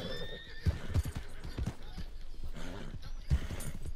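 A horse in the video game Red Dead Redemption 2 gives a high whinny at the start, followed by hoof clip-clops and snorts at close range, with faint game background sounds.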